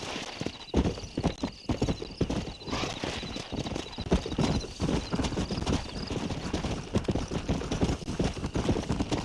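Rapid hoofbeats of galloping horses in Red Dead Redemption pound steadily throughout, loud and close, with a brief whinny mixed in.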